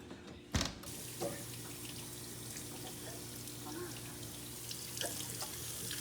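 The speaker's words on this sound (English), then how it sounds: "So now that we have our asparagus nice and rinsed" Tap water runs steadily into a kitchen sink while asparagus is rinsed for a clean-eating meal prep, a constant moderate splashing with a sharp knock near the start and a few small clinks.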